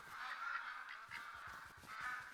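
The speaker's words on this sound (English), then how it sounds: "Ducks absolutely everywhere. And making all the noise as well." Ducks in the hunting game theHunter: Call of the Wild at the Layton Lakes reserve, giving continuous honking, quacking calls in overlapping bursts over a steady outdoor ambience.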